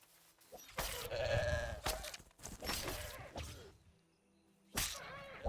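A goat bleating in the medieval survival game Pax Dei: several wavering, nasal bleats in quick succession, fairly close, separated by short pauses with a final call near the end.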